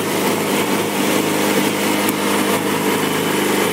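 A red 2007 Yamaha YZF-R6 sport motorcycle engine runs steadily through its exhaust pipe, giving a loud, close, high-pitched buzzing drone without any break, and nobody speaks.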